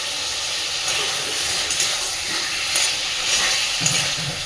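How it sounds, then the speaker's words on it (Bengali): Spice paste slow-frying in a pan for a potato curry cooked with fat, giving a steady close hiss and sizzle with faint crackles and no talking. "খুব সুন্দর করে একটু সময় নিয়ে মশলাটাকে কষে নেব।"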